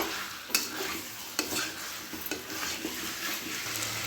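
Chicken with yogurt, salt and chili being stirred and sautéed in a pan, with a steady sizzle under repeated scraping strokes and light clinks of a spoon against the pot.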